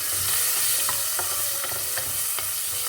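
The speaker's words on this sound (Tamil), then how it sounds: "வெங்காயம் நல்லா வதங்கணும்" Small onions sauté in oil in a pan for Kumbakonam-style kadappa sambar, with a steady close sizzle and light stirring clicks throughout.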